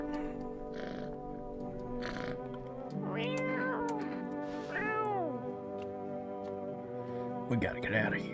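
A cat meows repeatedly in a video game, drawn-out wavering cries near and fairly loud over a steady background hum and faint talk.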